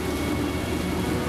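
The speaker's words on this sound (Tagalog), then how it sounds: "Lalo pa pala lumakas tong ulan." Heavy rain pouring down on the TPLEX expressway, a steady dense hiss with a low road rumble beneath, continuous and loud throughout with no voices.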